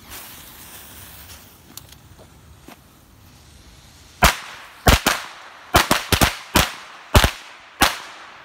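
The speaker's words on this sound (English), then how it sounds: "First, we're just gonna toss one of these as control." A string of loud firecracker bangs goes off after a quiet stretch, about eight sharp cracks in quick, uneven succession, close by, from a single firecracker thrown as a baseline.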